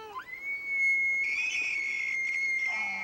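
A human voice imitates an elk bugle: a single long, high, sustained whistling tone that slides up at the start and drops low at the end, close and clear, with no talking.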